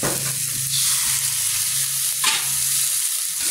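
Peanuts are stir-fried with added water in a pan. A steady, loud sizzle plays alone, with a couple of scraping stirs through it.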